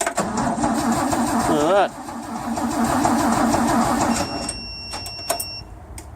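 Petrol car engine cranking off a 1000A battery jump starter, a rhythmic starter-motor churn that stops, cranks again and fades into clicks and a faint whine, with someone talking over it.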